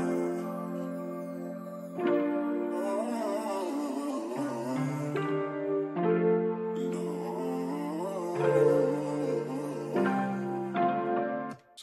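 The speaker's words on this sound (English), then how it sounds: "I've added this accent and some chimes" Looped music with a layered melodic accent and bright chimes over a steady low bass, the harmony shifting every couple of seconds and playing continuously without voices, built as a rap beat loop.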